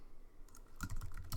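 Close, quiet keystrokes on a computer keyboard while text is entered in Photoshop, landing as a quick irregular run of light taps with no talking.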